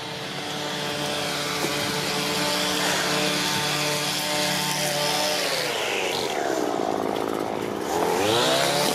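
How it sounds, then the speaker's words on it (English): Grass trimmers cut grass along Queen's Plate Drive in Etobicoke, Toronto, producing a loud, continuous engine buzz that rises and falls in pitch as the throttle changes. "there's a lot of people trimming the grass here."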